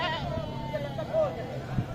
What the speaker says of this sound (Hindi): ये बकरी चेक करो, हाइट चेक करो बकरी की